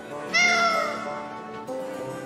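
A cat meows in the video game Tales of Vesperia: one clear, drawn-out, falling meow at close range, followed by a quieter tonal sound, with no talk.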